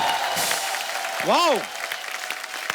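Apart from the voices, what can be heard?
studio audience applause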